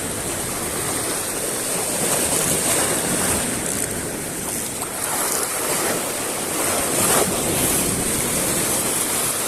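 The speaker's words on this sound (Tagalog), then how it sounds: "Grabe kalalaki ng mga alon." Large ocean waves crash and roll continuously along the shore, a loud, broad surf roar mixed with wind buffeting the microphone, heard from a fishing spot with no talking.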